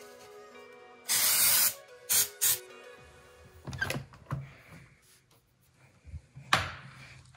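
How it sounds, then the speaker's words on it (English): Dry shampoo sprayed onto hair from an aerosol can comes as several close, loud hissing bursts of varying length, separated by softer handling and brushing sounds. "add a little dry shampoo"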